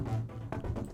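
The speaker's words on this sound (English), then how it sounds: "Synth jumps back in." Brief burst of music where a synthesizer tone rises above the mix, sustained and fairly quiet, lasting about a second.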